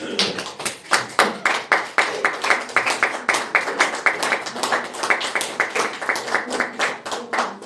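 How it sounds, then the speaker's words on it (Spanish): Men's church service congregation applauding together, a burst of distinct, fairly close hand claps with an uneven rhythm that holds steady for several seconds. "¿Cuántos pueden dar un aplauso, Señor?"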